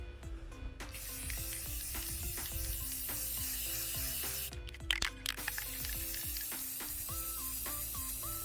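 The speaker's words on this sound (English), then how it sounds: "when you're spray painting, you always want to do multiple thin layers rather than one thick layer so that it doesn't drip or crack or anything like that" A glass side table gets spray painted in thin coats, giving a steady aerosol hiss that runs almost continuously from near by over faint background music, with a brief sharper burst of spraying midway.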